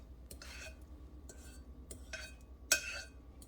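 A utensil stirs waffle batter in a full bowl with soft scraping strokes, a few spaced clinks against the side, the last one sharper and louder.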